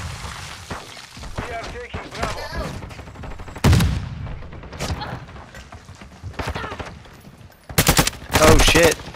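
Gunfire in a Modern Warfare 2 domination match: bursts of automatic rifle fire and single sharp shots, some close and loud, others distant, with heavy sustained volleys near the end and game voices talking underneath.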